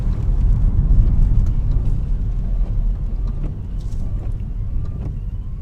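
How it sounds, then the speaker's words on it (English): A 2005 Vauxhall Astra G with a 1.6 Twin Port engine, running poorly with multiple fault codes and low power, idles steadily in a loud, continuous low rumble without a break. "So Idle. that's its idle, and then we're going to take off in first."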